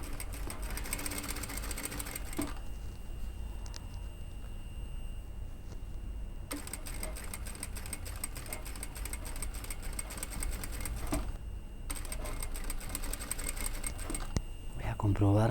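An overlock sewing machine runs steadily while stitching a curved fabric hem, its fast whirring drone breaking off briefly near the start and again near the end, with a voice talking over it.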